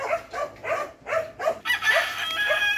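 Noisy pet chickens cluck and squawk close by in a rapid run of calls, with rooster-like crowing rising as the flock grows busier toward the end.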